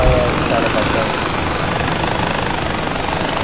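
A helicopter in Far Cry 4 beats loud and close with a dense, continuous rotor thrum, and a voice speaks briefly over it at the start.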